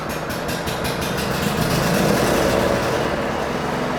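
A Husqvarna YTH22V46 riding mower's engine idles close by just after starting, a loud, steady mechanical rumble with a faint rhythmic flutter and no voices over it.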